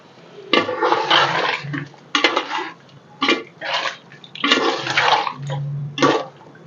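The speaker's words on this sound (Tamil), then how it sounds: "இப்போ தண்ணி விட்டுக்கலாமா?" Water splashes and gushes into a metal cooking pot in several loud bursts with pauses, while mutton gravy is being made in a home kitchen, with clanks of the pot between pours.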